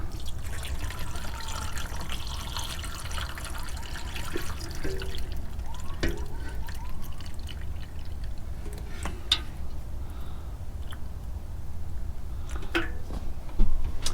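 Water trickles and drips gently into the soil of seedlings, a soft, intermittent pouring with scattered small taps and splashes over a low background hum.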